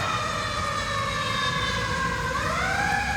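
A passing ambulance siren wails loud and steady, its pitch bending downward near the end as it goes by over a low rumble of traffic.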